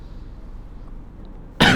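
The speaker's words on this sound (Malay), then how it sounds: "Saya batuk pula." A single short, loud cough bursts out at the very end after quiet room tone, from a man giving a religious lecture.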